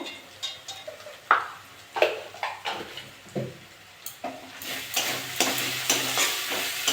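Malabar spinach (pui shak) being sautéed with ginger, garlic, spices and salt in a pan, with steady frying sizzle and repeated stirring scrapes and clinks of a spoon against the pan, fairly close, no talk.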